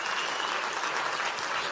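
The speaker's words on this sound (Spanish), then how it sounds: "un aplauso para Mauro" A brief burst of dense audience applause in a hall during a talk, even and sustained across the short span.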